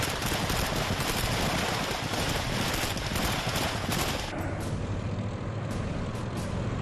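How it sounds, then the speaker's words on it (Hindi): Heavy gunfire from soldiers in urban street fighting during the Russian invasion of Ukraine, a dense continuous barrage of shots and bursts with rumbling noise throughout, loud and sustained. "शहर में लड़ाई, रूस की चढ़ाई, धुआंधार गोलीबारी,"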